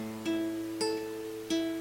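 Three fingerpicked guitar notes ring out one after another, each attack clear and sustaining into the next, played alone and close.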